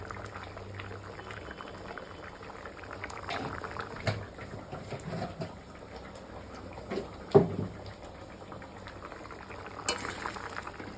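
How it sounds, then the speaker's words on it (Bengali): Tomato-and-sugar gravy for a green plantain kofta curry simmering in a pan, a steady low bubbling with a few louder pops and spoon clinks, fairly faint and close, with no talking. "ঝোলটা ফুটে উঠেছে"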